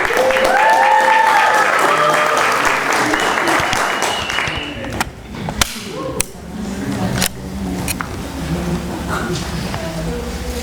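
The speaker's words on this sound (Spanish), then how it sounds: "Un fuerte aplauso para ella." Hearty audience applause at a Spanish-language storytelling contest, loud and sustained for about five seconds, then thinning into scattered claps and light crowd noise, with a few sharp louder claps near the end.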